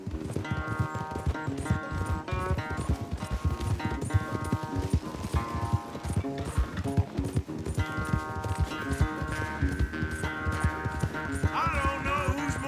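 Horse hooves galloping during a race in Red Dead Redemption 2, a fast rhythmic clip-clop running continuously under a dense, loud bed of game music.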